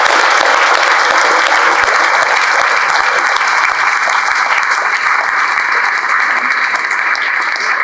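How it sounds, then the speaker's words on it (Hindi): Loud, steady applause from a large audience at a results celebration for JEE Main coaching students, sustained as a dense wash of clapping for the whole stretch without a break. "मैं चाहता हूं एक बार जोरदार तालियों के"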